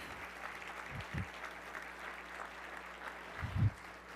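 An audience at the Madison Gives 2022 event applauds, a steady wash of clapping at moderate distance with a few louder low thumps near the start and end.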